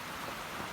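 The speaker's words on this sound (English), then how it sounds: "it's been raining just about all day long" Steady rain falls on a farm, a dense, even hiss of drops filling the brief moment without pauses, close and uniform with no voices.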